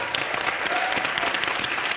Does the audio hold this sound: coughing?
no